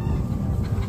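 Chickens cluck and murmur steadily at feeding time, a dense, close, continuous flock chatter with no voices over it.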